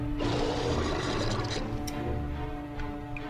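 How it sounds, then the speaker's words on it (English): Water drains in a Ratchet and Clank video game with a steady rushing gurgle like a toilet flush. It is loud at first and gradually thins and fades, and a few small drips and clicks follow. "We'll drain the water out there."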